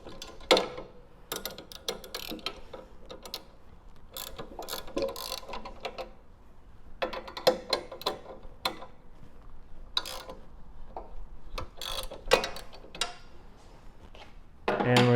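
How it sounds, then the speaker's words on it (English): A 9/16 ratchet wrench loosens the off-contact bolts on a screen printing press, giving close, fairly loud bursts of quick ratcheting clicks with short gaps between turns and no talking. "9/16 ratchet wrench. Loosen these off contact bolts."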